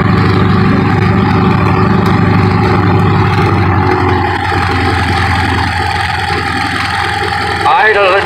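An H5 aircraft engine idles at low power with a steady, continuous drone throughout, close and fairly loud, while someone talks over it.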